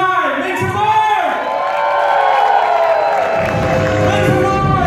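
An event crowd cheers and whoops loudly and continuously, with scattered shouts and some clapping mixed into the roar.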